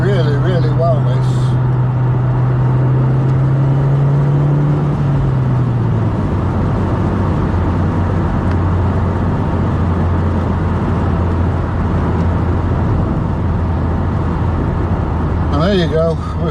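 A Toyota Yaris car drives and corners with a loud, steady engine drone and road roar from inside the cabin, the engine note shifting in pitch as it takes the bend, with talk over it.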